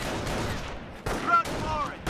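Soldiers firing in Company of Heroes, a close burst of gunfire followed by another volley about a second later, loud and sharp, with voices shouting over the shooting.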